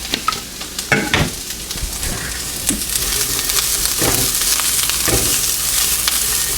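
Onions and peppers drop into warm olive oil and sizzle up loudly nearby, with a few stirring knocks at first before the frying settles into a strong, even hiss, with no speech.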